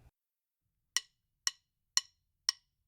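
Four crisp, evenly spaced drum strikes ring out close and alone, marking a drum corps pattern of sixteenth and eighth notes, each hit sharp and quickly fading.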